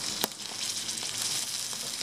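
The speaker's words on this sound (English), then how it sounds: "Just spreading that egg yolk around and that egg white just to sizzle it in" Egg yolk and white sizzling in a hot pan while pizza is being made, a steady broadband frying hiss with a few brief crackling pops, close and continuous, no talking.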